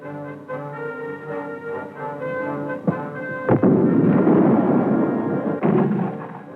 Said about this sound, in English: grab one of these 106mm recoilless rifles